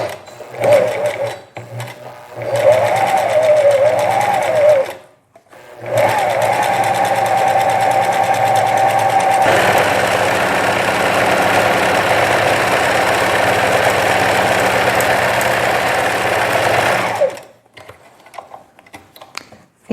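Domestic sewing machine running a wider zigzag stitch on a knit jacket, a loud steady mechanical whir with short pauses and bursts before a long continuous run, close up.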